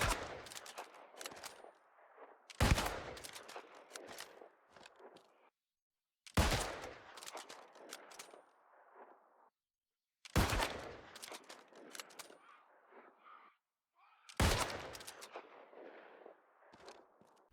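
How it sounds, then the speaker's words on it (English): A musket fires five times in the game New World, about four seconds apart. Each shot is a loud, sharp blast followed by a rumbling tail that fades before the next report. "Now we're going to test the musket without the gem"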